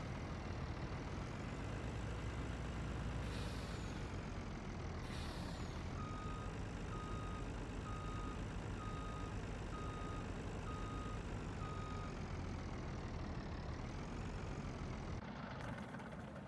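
A farm vehicle reversing in Farming Simulator 19 on PS4 gives a regular, evenly spaced reversing beep over a constant loud heavy engine drone, with brief hissing bursts near the start.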